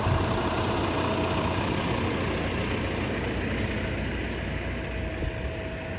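A Kioti HX1151 150-horsepower tractor, hitched to an offset disc, idles steadily with a dense, continuous low rumble and constant engine drone, fairly close and without talk.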